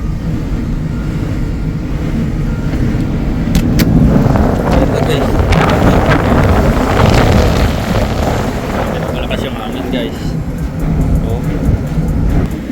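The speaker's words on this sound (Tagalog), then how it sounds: "Dito mas malakas yung hangin dito guys." Strong, steady wind at sea roars and buffets the microphone aboard a ship for the whole stretch, with a broad rushing noise and occasional gusts.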